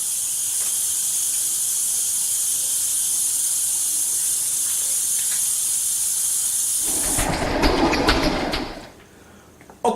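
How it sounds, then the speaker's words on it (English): Tap water runs in a steady, loud hiss for handwashing before cooking, then cuts off near the end, leaving a quiet room. "let me wash my hands"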